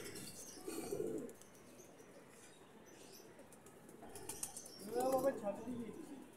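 A female pigeon coos softly in two short bursts over a quiet outdoor hiss, with faint chirps and rustling in between.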